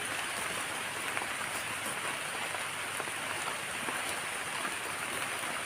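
Steady rain pouring down, a dense constant hiss with scattered drops tapping on surfaces, nobody speaking.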